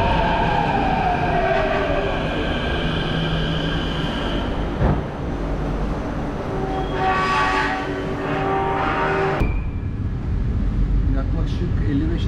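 A metro train on the Sabiha Gökçen Airport line rumbles steadily close by, with squealing wheel tones and clattering bursts, while a voice talks over the noise.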